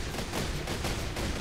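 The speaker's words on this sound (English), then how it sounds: "Do your cannons just automatically start going?" Cannons fire in the Besiege video game during a multiplayer demolition derby, a dense, continuous roar of booming blasts with several sharper bursts close together over the short stretch.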